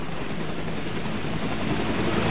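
A helicopter sits at a landing pad in the Philippines, its engine and rotor making a loud, steady, dense roar close by that fills the whole short stretch without pause, with no voices.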